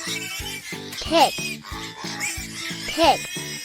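A pig lets out two short, squealy grunting oinks, spaced a couple of seconds apart, over a bouncy nursery-song accompaniment.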